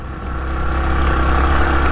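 A motorbike engine labours up a steep, broken mountain forest road in Uttarakhand, holding a steady, loud drone that swells slightly as it strains, with no voices over it.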